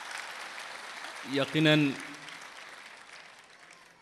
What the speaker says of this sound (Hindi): एक बार इनके लिए भी तालियां बजना चाहिए।